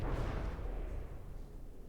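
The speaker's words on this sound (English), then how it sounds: "explosions like this can't just occur out of thin air" A shell explosion in a battleship video game, one deep booming blast that rolls out and fades over about two seconds.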